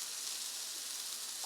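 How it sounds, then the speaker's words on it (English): Food frying in a pan, a faint steady hiss of sizzling close by with no talking over it. "you guys can get some ASMR on this sizzling factor"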